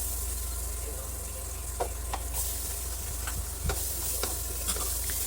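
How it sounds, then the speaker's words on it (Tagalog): Ginger, then onion, sautéing in a pan for laing, a steady sizzle with a few scattered stirring scrapes and taps, fairly close and even throughout. "Gigisa po natin ang luya hanggang sa lumabas ang kanyang aroma."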